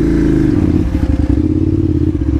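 A KTM 950 motorcycle engine idles and chugs at low revs while crawling over rocks, loud and close, with a pulsing throb and rattly clatter from the bike working across rough ground.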